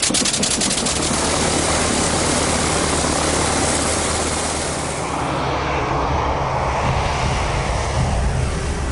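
Steady, loud roar of a vintage World War I era aircraft engine from the Shuttleworth Collection at Old Warden, Bedfordshire, droning continuously and close with no talk.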